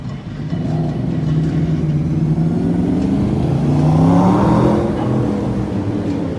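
Motorcycle engines rev on a quiet New York City street during the 2020 lockdown, a rising and falling mid-pitched roar that swells near the middle and fades slightly, heard without talk.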